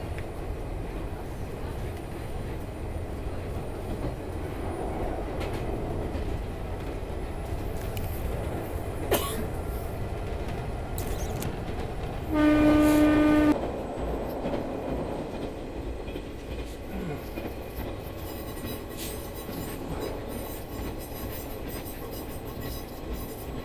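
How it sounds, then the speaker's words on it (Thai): A Japanese passenger train riding the rails toward Yudanaka in Nagano, with a steady low rumble and rattle from inside the car, a brief tonal squeal partway through, and faint voices. "ต้องนั่งรถไฟไปครึ่งชั่วโมงนะครับแล้วไปเปลี่ยนขบวนใหม่อีกประมาณ40นาที"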